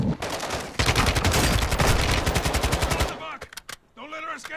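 Rapid automatic gunfire in Modern Warfare 2 rattles loud and continuous for about two seconds, then breaks into a few scattered single shots, with a voice speaking near the end.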